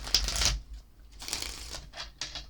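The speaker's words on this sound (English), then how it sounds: "So I'm going to go ahead and shuffle them up real quick here for you." Quick riffling bursts of cards being shuffled, a loud flurry at the start followed by several shorter riffles, close by with no talking.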